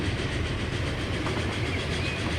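A quarry train in Transport Fever 2 runs on rails with a steady, even rumble and faint rolling clatter that continues throughout, with no voices.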